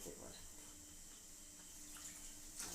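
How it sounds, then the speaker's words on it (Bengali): Water poured into a cooking pot during home cooking of a spiced dish, a steady running splash lasting a few seconds with a brief louder gush near the end. "এবারে একটু জল দিয়ে দিই বেশি জল দেবো না"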